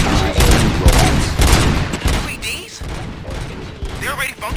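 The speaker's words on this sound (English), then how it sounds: "Gunshots? What's going on?" Gunfire in the video game RoboCop: Rogue City, a loud burst of rapid shots filling the first two seconds before thinning into scattered impacts and mechanical clatter.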